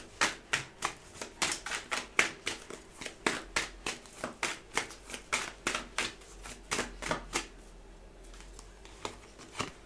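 A deck of tarot cards is shuffled by hand in a steady series of crisp, close riffling flicks, about two or three per second, fairly quiet with no talking over it.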